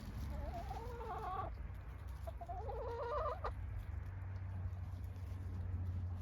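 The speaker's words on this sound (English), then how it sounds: "the chickens are all catching on to the idea. They are all coming." Chickens cluck in two short bursts of throaty calls as they gather outdoors, moderately close over a low steady background drone.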